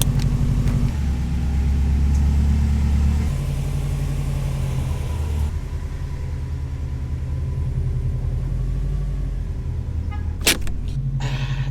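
A Subaru STI on the road, its engine a deep, loud rumble that lifts slightly then settles into a steady drone, with a brief rattle near the end.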